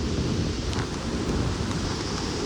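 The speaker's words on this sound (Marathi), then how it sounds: "पाऊस बघा किती जोरात आहे" Steady, heavy wind-driven rain roars continuously at Kasheli beach near Ratnagiri, a dense wash of noise with no pauses and no voices.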